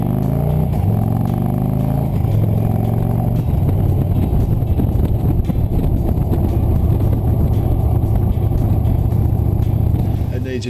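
Victory Cross Country bagger motorcycle engine while riding, a loud continuous low rumble with a brief rising rev early on, close and steady throughout with wind noise.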